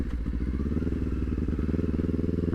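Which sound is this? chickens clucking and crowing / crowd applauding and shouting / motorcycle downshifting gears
motorcycle downshifting gears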